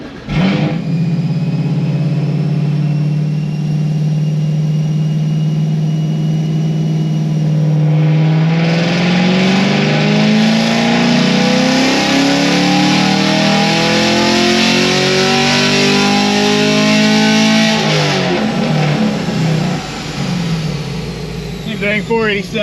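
A bolt-on car engine on a dyno holds a steady loud drone, then climbs through a long rising rev to wide-open throttle before backing off, with voices talking over it.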